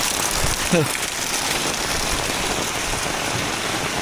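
Steady heavy rain patters and hisses throughout in Mirpurkhas, Pakistan, a dense wash of drops with a brief voice-like murmur early on.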